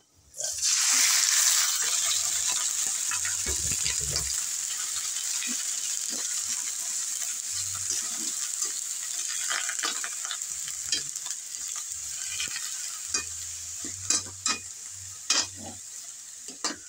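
Chicken pieces fry in a hot pan, loud continuous sizzling with repeated scraping and clinking of a utensil as they are stirred, close up throughout.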